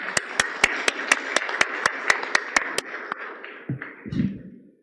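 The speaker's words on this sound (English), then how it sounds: "So please give an applause to all the IGA organization." Audience applause for conference organizers at a medical presentation on arthroscopic shoulder surgery: a steady series of sharp, evenly spaced claps under a continuous wash of clapping that thins and fades toward the end.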